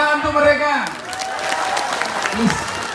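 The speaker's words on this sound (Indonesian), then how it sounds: "Tepuk tangan untuk mereka." At a live comedy show in Taiwan, a voice speaks briefly, then the audience breaks into a fairly loud spread of scattered clapping that carries on under a faint voice.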